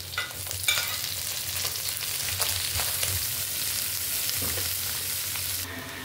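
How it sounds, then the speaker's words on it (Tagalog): Garlic and onion sauté in a pan as a pakbet base, a loud, steady sizzle close by with scraping stirs throughout and the frying briefly dying down at the end. "Igisa na natin dito yung bawang at sibuyas"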